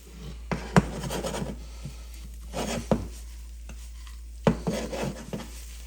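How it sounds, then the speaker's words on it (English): Panko breadcrumbs stirred with melted butter and bacon fat in a pan for a baked mac and cheese topping: bursts of scraping, rustling stirring strokes, close and clear, with short pauses between passes. "let's go ahead and stir this around until the butter and the bacon fat is absorbed by the breadcrumbs"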